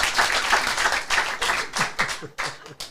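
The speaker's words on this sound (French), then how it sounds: "Déjà, on applaudit Mohamed." A small audience claps for Mohamed in a room, with brisk, uneven bursts of hand claps that rise and dip, a few voices barely audible beneath.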